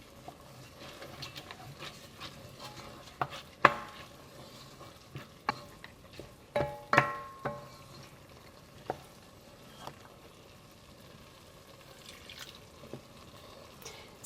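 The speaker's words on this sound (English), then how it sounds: "Stirring for 20 minutes seems like an arduous job, doesn't it?" Mushroom risotto being stirred in a pan, with soft scraping and occasional spoon taps against the pan over a faint sizzle, quiet and close.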